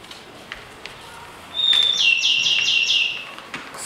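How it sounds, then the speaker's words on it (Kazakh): A bird sings a short run of bright, repeated chirping notes, clear and fairly close, rising out of quiet background hiss in the middle of the clip and then fading. "Құстың сайдаған дыбысы екен."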